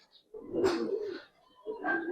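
Giribaz Pakistani high flyer silver pigeons cooing close by, two low throaty coos separated by a short pause.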